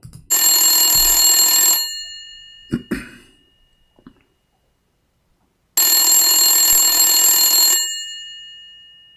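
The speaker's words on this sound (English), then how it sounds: "Let us call him in his grandmother's house. Phone. Old phone." An old landline telephone bell ringing loudly and close, in two long metallic trills separated by a pause, with a brief cough or throat-clearing in between.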